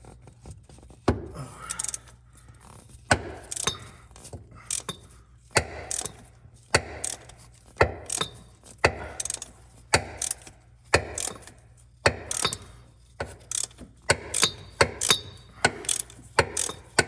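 A ratchet works a 13mm bolt out of a bracket on a 2003 Jeep Wrangler TJ. Short bursts of rapid, close clicking repeat in an uneven rhythm, separated by brief pauses and sharp knocks.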